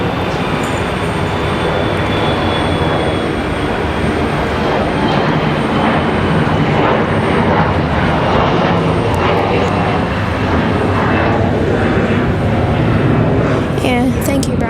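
An airplane departing Raleigh-Durham airport on a windy day, a loud, continuous jet roar filling the whole stretch with wind buffeting, and a voice talking over it.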